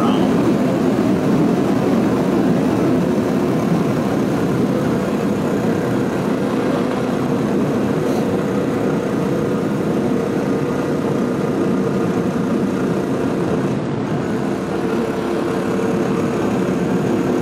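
A Royal Enfield 350 Classic motorcycle ridden solo on a cold road at about 5°C, heard as a steady, loud engine drone mixed with strong wind rush, continuous and unbroken.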